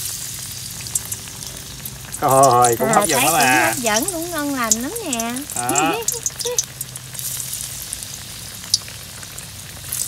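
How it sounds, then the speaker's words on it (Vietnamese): Breadfruit pieces fry in hot oil with a soft, continuous sizzle beneath a woman's speech for most of the stretch. "Đó, giờ mình bỏ vô mình thử mình chiên thử ha."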